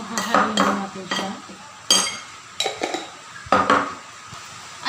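A utensil scraping and clinking against a bowl while pork chops are mixed with a black pepper and salt marinade, in short uneven strokes with pauses between them.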